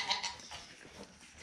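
Farm goats give a couple of short bleats at breakfast feeding time, faint and somewhat distant, with brief calls near the start and middle and no talk over them.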